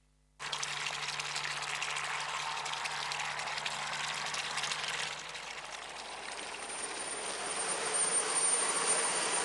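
Steady loud rotor and engine roar of a helicopter in flight, continuous and close, with a whine rising slightly toward the end.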